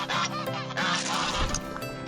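Geese honk repeatedly and loudly around chickens at feeding time, a busy overlapping chorus of brassy calls close by.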